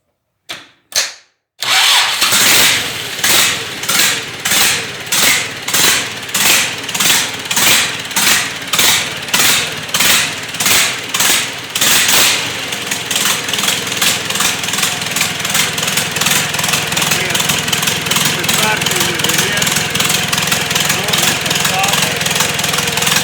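An engine started cold after a few sharp cranking bursts, then running loud and close with a fast, even pulsing idle that settles steadier partway through.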